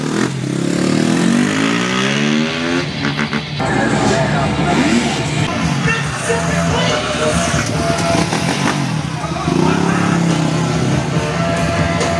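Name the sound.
car driving past in demonstration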